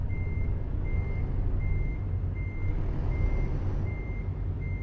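Reversing alarm of a truck in Euro Truck Simulator 2, beeping in a steady regular rhythm of about seven evenly spaced tones over a constant low engine rumble and hum.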